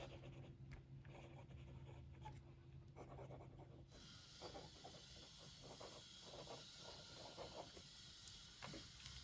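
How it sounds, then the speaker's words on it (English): A Pelikan Souverän M605 fountain pen nib scratches across paper in close, soft strokes with a faint, slightly feedbacky hiss, continuing steadily alone. "Let's do some writing."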